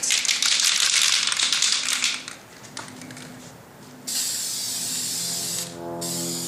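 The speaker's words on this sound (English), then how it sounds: "spray painting, always try out the spray paint first" Spray paint hisses from an aerosol can onto a PS3 controller in two long, close bursts separated by a quieter pause with faint rattling.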